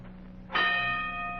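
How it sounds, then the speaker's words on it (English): A single boxing ring bell in a radio drama strikes once, loud and close, ringing out with a long, sustained metallic decay over a low background hum. "There's the bell."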